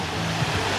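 Water rushing steadily at a waterfall wedding setting after being turned back on, a broad continuous wash filling the short moment without speech.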